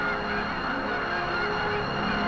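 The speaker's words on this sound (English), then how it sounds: "Every fall, the majestic Canada geese migrate southward by the thousands." A big flock of migrating Canada geese fills the air over Swan Lake National Refuge in Missouri with a constant, overlapping honking chorus, a steady layered wall of calls under a faint engine drone.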